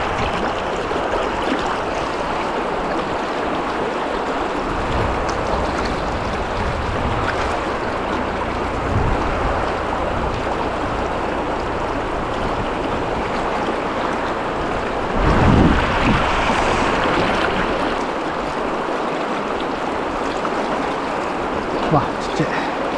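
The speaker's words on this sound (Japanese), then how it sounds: "すげえ風吹いてきたんで釣りづらくなりましたね" Strong gusty wind blowing along the Jinzū River during an evening sweetfish fishing trip, a constant roar with flowing water beneath it and a louder gust midway, while people talk.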